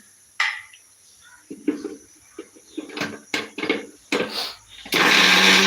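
A few clatters and clicks, then a mixer grinder roars to life, loud and steady, running continuously to the end.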